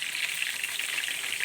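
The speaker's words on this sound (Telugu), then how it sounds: "ఇప్పుడు శనక్కాయ పప్పులు వేస్తాను. చూడండి, కరివేపాకు, వేడి నూనెలో ఇవన్నీ అయిపోయాక పసుపు వేసుకోవాలి." Peanuts and curry leaves fry in hot oil with a steady, bright crackling sizzle, close and continuous, with no voices.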